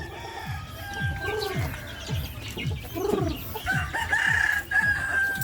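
A rooster crows near a birthday gathering, its calls rising and falling in several bursts over a steady background of clucking fowl and other birds. No one speaks during the crowing.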